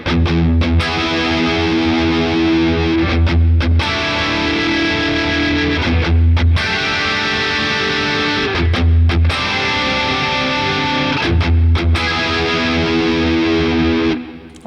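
An electric guitar plays chunky rhythm chords through a small practice amp, with heavy distortion and a chorus effect thickening the tone. The sustained, loud chords are briefly choked off between phrases, with no talking.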